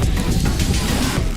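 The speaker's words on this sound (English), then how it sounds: "That noise you hear is the wind blowing." Wind buffets the microphones at an outdoor football match, a loud continuous low rumble and roar filling the short stretch with no clear speech.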